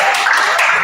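Classroom applause from students during a biology lesson: a short, dense burst of many hands clapping together, steady and fairly loud throughout.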